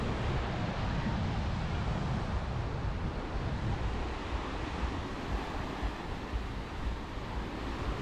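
Ocean waves wash onto a beach in Thailand, a steady, dense roar of surf with wind buffeting the microphone throughout, fairly loud and continuous with no clear individual breaks.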